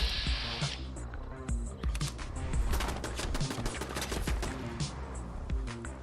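Rapid machine gun bursts in Fallout 4 during a survival-mode playthrough, dense overlapping automatic fire with a steady backdrop of game noise throughout.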